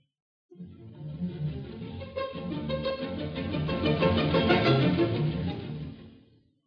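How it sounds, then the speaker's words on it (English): Orchestra strings playing pizzicato at a children's Thanksgiving concert, a dense swell of many plucked notes that grows louder and fuller before fading out, heard without talk. "Now the strings will play pizzicato."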